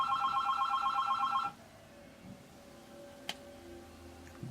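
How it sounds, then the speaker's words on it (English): A phone rings in a short electronic trill burst for about a second and a half, then stops, leaving a quiet room with a faint click. "And here goes my phone."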